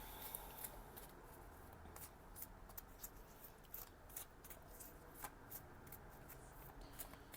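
A deck of angel cards shuffled by hand, producing soft, repeated riffling and flicking bursts in an uneven rhythm, close and quiet, with no one speaking.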